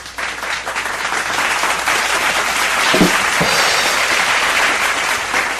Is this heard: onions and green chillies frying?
no